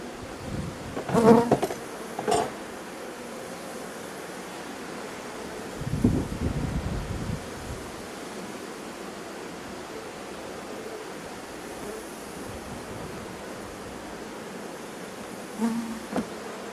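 Honeybees hum around a large colony at an open hive, a steady insect drone with a few brief louder bursts of activity near the start and middle, heard alone without talk.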